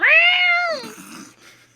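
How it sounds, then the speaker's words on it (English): A cat lets out a single loud, drawn-out meow, close and clear, tapering off after about a second. "meows at him loudly"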